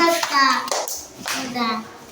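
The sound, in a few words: children clapping for a classmate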